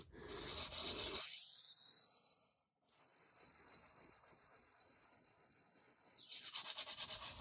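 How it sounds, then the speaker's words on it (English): Sandpaper rubbed across an embossed metal craft piece, producing a close, continuous scratchy rasp with quick back-and-forth strokes and a brief pause partway through. "I'm going to use a little bit of sandpaper now with this and just"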